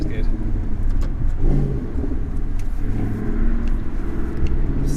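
Maserati GranTurismo S accelerating hard with a loud exhaust, a steady close rumble heard from inside the car, with voices talking over it.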